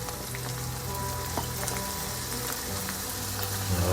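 Fried rice for a combination fried rice dish sizzles in a hot pan just after soy sauce goes in, a continuous crackling fry with scattered pops and faint stirring clinks, heard alone without talk.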